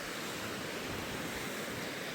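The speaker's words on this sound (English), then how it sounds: "sorry if the waves are really loud" Ocean waves break on the shore as a loud, continuous roar of surf and wash. Wind noise on the microphone blends into the sound, and no one talks.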